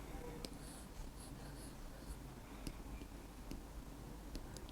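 Pen scratching steadily across paper while Urdu letters are written by hand during a Class 7 lesson, a close, continuous scribbling with small ticks and strokes, no voice over it.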